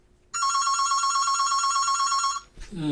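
A telephone rings once with a loud, close, sustained electronic trill lasting about two seconds, starting from near silence and followed by a brief rustle.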